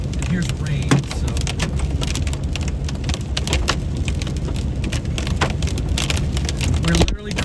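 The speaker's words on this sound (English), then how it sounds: "Hail's not too big, and here's rain, so." Rain and small hail pelt a car during a storm, a dense steady hiss spiked with scattered sharp ticks and clicks from hailstones striking the body and glass, loud and close from inside the vehicle.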